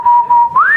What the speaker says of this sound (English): Good whistling